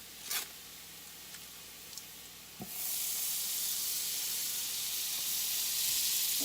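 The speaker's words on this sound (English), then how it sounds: "I'm going to go ahead now and add my 2 tablespoons of butter" Butter hits a pan of browned onions for a low-carb meal and breaks into a loud, steady close sizzle, after a few faint clicks and a brief knock.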